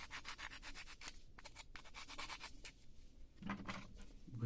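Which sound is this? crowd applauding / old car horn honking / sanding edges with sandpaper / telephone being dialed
sanding edges with sandpaper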